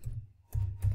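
A few soft keystrokes on a computer keyboard, two short bursts of quiet typing close by in a quiet room.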